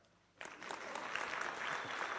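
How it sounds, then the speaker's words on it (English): An audience claps together at a business seminar on internet economics, starting suddenly after a short quiet lead-in and holding as a steady, fairly distant patter of many hands with no voices over it. "That's the part where you clap"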